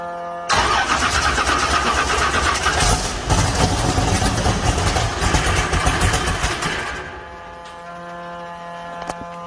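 A car engine fitted with Tornado fuel injection cranks and fires up. It runs loud and steady for several seconds, then settles back to a quieter idle.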